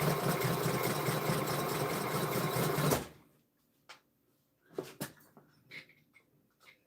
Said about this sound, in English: Go fast enough, it might sew it good.